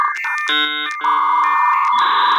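Dead phone line tone sound bite: a loud, shrill electronic sequence of stacked tones that shift in steps, with short beeps at the start and a continuous harsh whine to the end.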